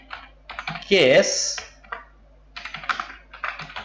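Someone types on a computer keyboard while entering a cell range in Excel VBA, giving short bursts of close clicking keystrokes around a brief spoken word.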